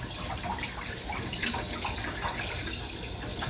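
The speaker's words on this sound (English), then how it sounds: "So I'm washing the chicken." Raw chicken being washed under a cold running tap in a kitchen sink, a steady, loud broadband rush of water with faint splashing and shifting flow, no voices.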